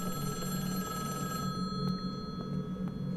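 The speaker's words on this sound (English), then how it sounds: "I hear a phone." A telephone rings inside the horror video game The Flight, a steady repeating electronic bell tone heard alone at moderate level, fading slightly partway through.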